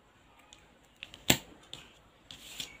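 Small scissors snip the loose end of crochet yarn for a bookmark: a few soft ticks, then one sharp, close cut near the middle and a few lighter clicks after, with no talking.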